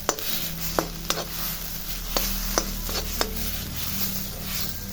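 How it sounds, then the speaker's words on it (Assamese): Ginger and garlic frying over low heat in a pan, with a soft sizzle under scattered sharp clicks and scrapes of a spatula stirring against the metal. "এনেকৈ আধা মিনিটমান সময় মই ভাজিলোঁ।"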